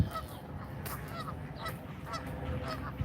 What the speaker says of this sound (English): Look at all the geese over there.